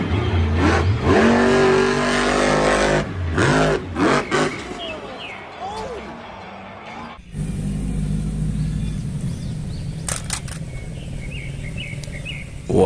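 A toy monster truck's small engine revs loudly in rising and falling bursts, then drops to a steady lower drone with some clatter and chirpy sounds over it.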